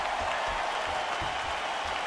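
Virtual arena crowd in the EA Sports UFC 4 fighting game, a steady wash of cheering and applause filling the whole moment with no voice over it.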